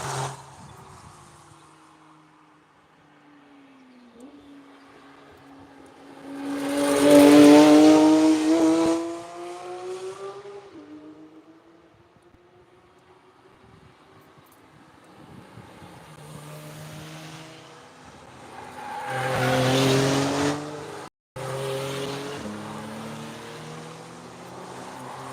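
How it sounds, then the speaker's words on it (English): Race cars and a safety car on a circuit after an accident, engines rising and fading as cars pass, with two louder drive-bys standing out against a quieter engine drone and no talk. "Safety car heading down."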